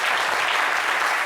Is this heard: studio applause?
yes